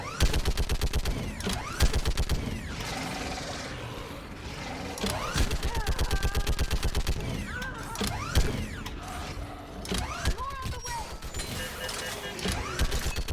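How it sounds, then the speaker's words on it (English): A mounted gun firing in a Mass Effect 3 battle: loud bursts of rapid automatic fire in repeated volleys separated by short gaps, with mechanical clanking and voices in the fight. "Keep firing!"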